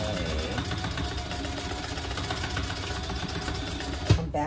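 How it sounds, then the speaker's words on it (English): A sewing machine stitches thick vinyl fabric for a storage caddy, running in a steady, continuous rapid whir close by, then stopping with a brief clunk near the end. "it is sewing wonderfully"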